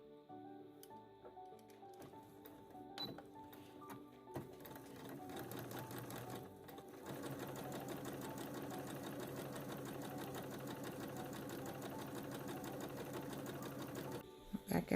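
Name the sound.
sewing machine stitching down a seam allowance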